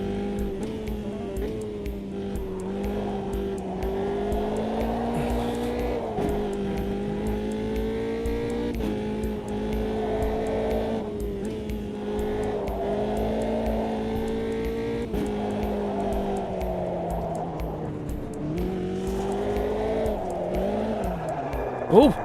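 A race car engine drones steadily up close, its pitch rising and dipping as the throttle is blipped, with a sharp jab of revs right at the end.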